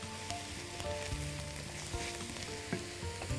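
Butter melting in a pan sizzles softly and continuously, with faint crackles and light scraping, no talking.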